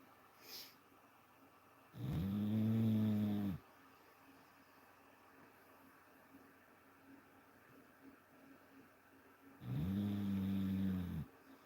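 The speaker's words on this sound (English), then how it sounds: "She is over here snoring her full head off." A person snores loudly and close by, two long, deep rasping breaths several seconds apart with quiet room noise between them.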